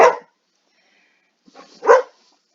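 Indoor dog gives two sharp barks, one at the start and a louder one near the end after a soft lead-in, with silence between.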